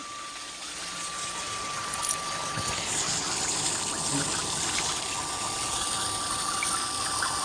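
Water rushes steadily through a drip irrigation filter in a tobacco field, a continuous close hiss and gurgle with a faint hum from a pump underneath, unbroken for several seconds.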